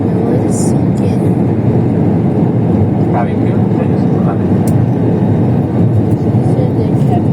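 A Turkish Airlines A350 cabin fills with a loud, steady broadband roar during landing with the gear down, a constant close rumble with faint brief clicks and no clear speech.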